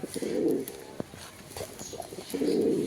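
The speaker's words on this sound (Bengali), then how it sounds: "টপ কোয়ালিটির একটা গ্রানাডিনো নর কবুতর" A pied male Granadino Spanish pouter pigeon coos close up in two low, throaty rolling bursts, at the start and end, with a faint tap between them.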